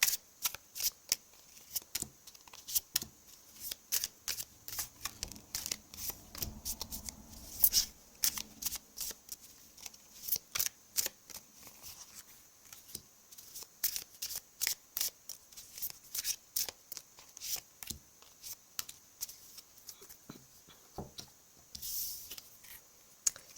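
Tarot cards being shuffled close up, a long run of crisp, rapid riffles and slaps in irregular bursts with brief pauses, fairly quiet and heard alone.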